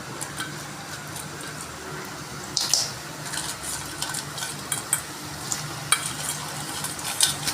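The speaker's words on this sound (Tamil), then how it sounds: "இப்போ வந்து இதில் வந்து நண்டு சேர்க்க போகிறேன்" Crab pieces tipped into a pan of chilli masala gravy, stirred with a steady sizzle and wet bubbling close up, a few sharper clatters of the spoon against the pan.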